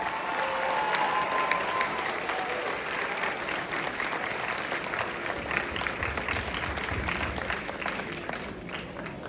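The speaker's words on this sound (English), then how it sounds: "Let's give them all a big round of applause" A school concert audience claps for the high school band members, a dense, steady round of applause held for several seconds with faint voices mixed in.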